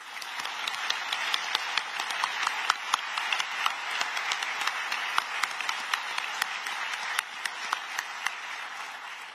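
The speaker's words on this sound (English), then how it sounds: "I'd like to give all of them one more round of applause." An awards ceremony audience at a disability advocacy event gives a sustained round of applause, many hands clapping steadily with crisp individual claps standing out, heard alone at moderate distance.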